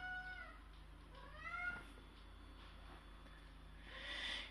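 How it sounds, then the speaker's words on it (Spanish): A house cat meows several times in quick succession, faint and close, followed by a soft hiss-like burst near the end against a quiet indoor background. "Mi gata que está aquí dando un poquito de por culo."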